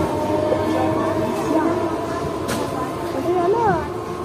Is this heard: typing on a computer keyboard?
no